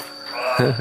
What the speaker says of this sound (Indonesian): Tawon.